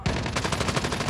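Rapid automatic gunfire in the mobile game Call of Duty Mobile comes as a dense, fast burst of evenly spaced shots, loud and close.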